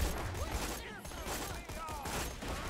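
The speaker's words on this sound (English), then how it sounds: "This is a very wobbly SMG." A wobbly SMG fires in Borderlands 2 in rapid bursts of gunfire mixed with other game sounds, and a voice talks faintly beneath.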